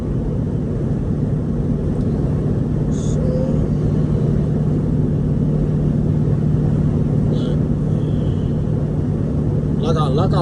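Steady low road rumble from a car driving on a road at night, a constant even drone from inside the vehicle with faint brief noises on top.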